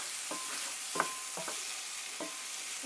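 Tomato puree mixture stirred in a small 9-inch Lodge cast iron pan, with soft, quiet scraping strokes at a few irregular moments over a low sizzling hiss.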